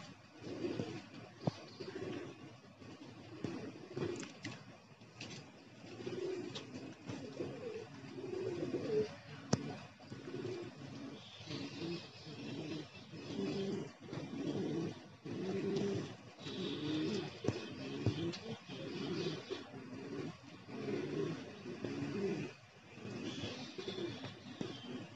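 A flock of pigeons coming back to the loft in 40-degree heat coos continuously at moderate volume, many overlapping throaty calls forming a rolling, pulsing chorus with scattered faint clicks.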